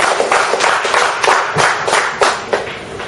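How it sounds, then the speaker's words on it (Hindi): An audience applauds a gold medalist at a yoga health talk, loud close claps in an uneven, fairly sparse rhythm from a small group. "तो एक गोल्ड मेडलिस्ट के लिए फिर से तालियां बजाएं।"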